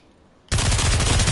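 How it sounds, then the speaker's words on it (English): Rapid automatic gunfire from the VR shooter Pavlov VR2 breaks out abruptly after a half-second of quiet, then hammers on as a loud, sustained burst of fast shots. "why are they shooting over there?"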